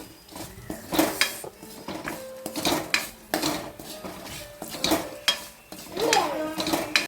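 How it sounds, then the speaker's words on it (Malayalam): Grated coconut being fried in a pan with curry leaves and coriander, heard as close, repeated clatter and scraping of a utensil against the pan in uneven bursts, with a light sizzle underneath and no talk. "കുറച്ച് കറിവേപ്പില രണ്ട് മൂന്ന് മല്ലി ഇത്രയും ഇട്ട് ഇനി നമുക്കിത് നല്ലതുപോലെ വറുത്തെടുക്കാം"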